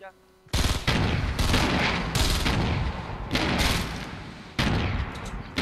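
Rapid bursts of video game gunfire from a battle royale match, loud and continuous with short pauses between volleys, filling the whole stretch after a brief quiet start.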